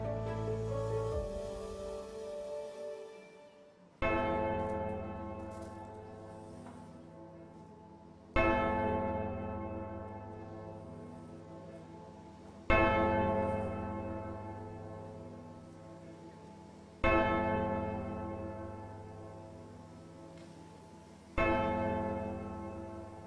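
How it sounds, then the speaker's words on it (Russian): A church bell tolls slowly and evenly, six resonant strikes about four seconds apart, each ringing out and decaying into the next, heard alone without voices. "Бьет колокол,"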